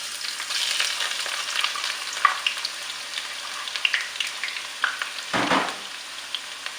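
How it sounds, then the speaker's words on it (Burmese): Onions stir-frying over high heat in a hot pan for a spicy Burmese masala egg dish, a steady close sizzle broken by scattered scrapes and a louder hiss burst as they are tossed. "မွေကြော်ပေးပါမယ်"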